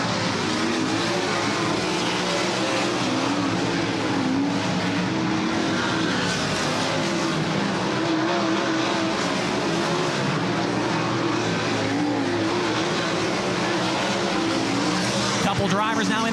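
High Limit sprint race cars roar at full throttle on a green flag restart at Eagle Raceway, a loud, continuous wall of engine noise swelling as the field accelerates, with an announcer talking over it.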